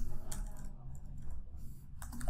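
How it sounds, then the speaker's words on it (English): Typing on a computer keyboard while writing a report title in Microsoft Word: soft, fairly steady key clicks running through the whole moment, close to the mic, with no talking over them. "So I would use the keyboard shortcut Control Home, and now I can type."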